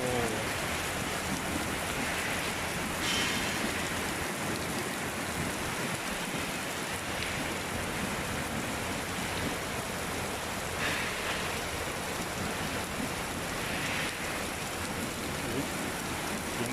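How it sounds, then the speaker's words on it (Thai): Heavy rain falls in a dense, continuous hiss, with gusty swells rising and falling throughout a long, unbroken downpour. "หนักมากวันนี้โอ้โหฟ้"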